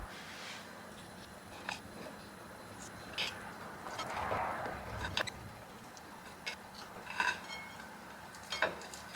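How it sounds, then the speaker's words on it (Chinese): Cooked sweet glutinous rice stuffed lotus root being plated and sliced, heard as sparse, quiet knife taps and clinks of a plate and utensils in a hushed kitchen, with a soft rustling swell midway. "然后糯米糖藕也煮好了， 捞出来装盘后切片。"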